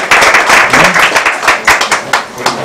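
Audience clapping at a Bhojpuri movie music launch and muhurat event, a steady mass of hands filling the room, with speech-like voices mixed in underneath.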